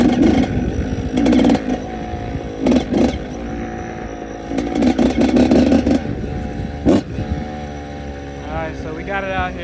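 A Yamaha YZ85 dirt bike with freshly installed rear hub bearings is ridden, its two-stroke engine revving in repeated bursts that rise and fade between gentler idling stretches, fairly loud and close, with a voice talking in places.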